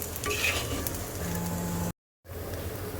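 Magur catfish frying in a pan for dopiaza, a steady sizzle with faint utensil clinks for about two seconds, then a brief cut to silence before the sizzling resumes.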